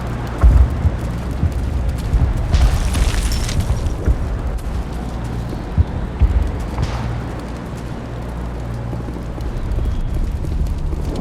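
Battle gunfire and explosions from the video game Mass Effect: repeated heavy booms and sharp bursts over a dense, continuous low rumble, loud and close, with no voices.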